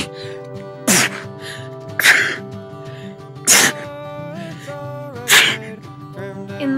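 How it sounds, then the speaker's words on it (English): Four sharp sneezes from one person, spaced about a second or more apart, each a loud close burst above a steady tonal background. "I sneeze all the time."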